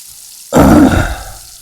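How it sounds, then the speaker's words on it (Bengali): After a brief quiet moment, a sudden loud sizzle bursts out as small sea fish hit hot oil in a wok, then settles into a softer crackle. "তেল গরম হয়ে গেছে মাছ দিতেছি"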